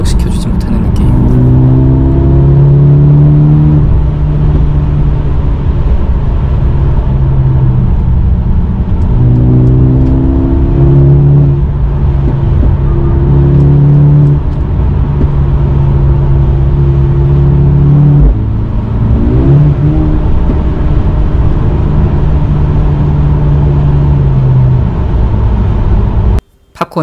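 A Mercedes-AMG A35 4Matic sedan drives with a steady engine drone that rises and shifts in pitch through repeated gear changes, heard close from inside the cabin and carrying on alone.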